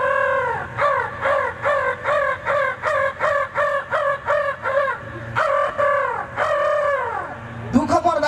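A voice imitates a crow cawing to bring good news, a rapid series of loud, close, pulsing caw-like calls followed by a few longer drawn-out cries.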